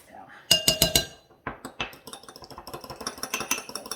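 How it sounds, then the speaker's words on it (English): A utensil beats an egg in a dish that held melted butter, giving rapid, bright clinking taps in quick bursts, close and crisp, with a brief pause between runs. "I'm going to beat the egg in the same dish we melted our butter in"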